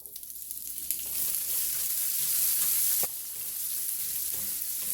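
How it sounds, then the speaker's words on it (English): Onion frying in oil with panch phoron seeds in a pan, a loud dense hiss that swells after the first second and holds steady, with occasional faint clicks of stirring. "So I'll let onion cook for 3-4 minutes."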